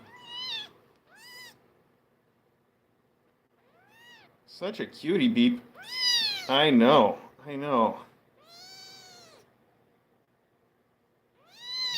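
A kitten called Beep meows repeatedly, with several rising and falling cries close by, while someone talks softly to it between the calls.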